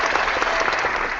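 Applause from a small audience on a comic book podcast, a brief dense patter of clapping hands, fairly loud and steady for about a second with no cheering voices.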